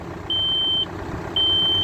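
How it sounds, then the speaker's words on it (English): A tractor's reverse warning alarm sounds during a vineyard trellis wire installation: two long, steady, high-pitched beeps separated by a short gap, clear and fairly close over low engine rumble, with no talk. "You'll hear it beeping in reverse,"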